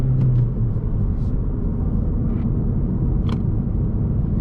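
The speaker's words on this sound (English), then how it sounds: "you're gonna have some road noise, some engine noise with this vehicle" Steady low rumble of a 2022 Honda Civic Si driving on the road, engine and tire noise droning continuously with a few faint clicks above it.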